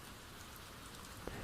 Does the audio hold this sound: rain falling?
yes